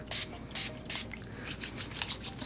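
Three short, sharp sprays from a pump bottle of eucalyptus hand sanitizer in quick succession, followed by softer rubbing of hands, close up.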